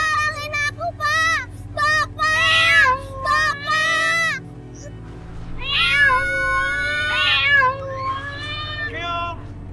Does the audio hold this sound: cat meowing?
yes